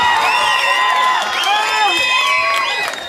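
Audience in a school hall cheers and whoops for a former teacher who built the school, appearing on stage at the school's Amrit Mahotsav celebration; a loud, sustained crowd roar with high shouts throughout.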